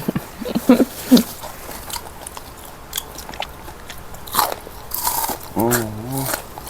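Someone bites into crispy deep-fried mackerel with the head cut off, giving a few close crunches and chewing sounds between stretches of talk.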